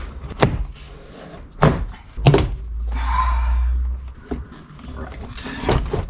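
Interior trim panel clips popping off a BMW 4 Series F32/F33: a few sharp plastic snaps and thunks at irregular moments, with a low rumbling scrape of the panel between them, close to the microphone.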